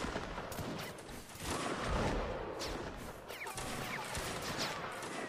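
Dense cannon and musket fire from a Napoleonic Wars siege battle in a video game, with booming cannon blasts and crackling volleys overlapping in a continuous loud barrage throughout.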